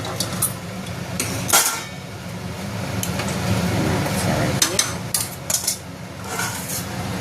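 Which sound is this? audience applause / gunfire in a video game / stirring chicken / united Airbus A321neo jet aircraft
stirring chicken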